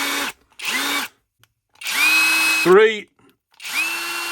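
A Parkside 12V Performance cordless drill driver spins up in four short bursts, its motor whine rising and falling sharply between silent pauses, with a brief spoken word during one burst.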